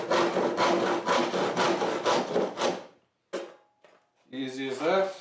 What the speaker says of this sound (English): I'll just grab my handsaw real quick.